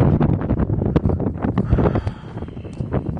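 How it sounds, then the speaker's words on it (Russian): Loud, gusty wind battering the microphone in uneven bursts, rumbling low and briefly dropping before surging again. "что просто порывистый ветер"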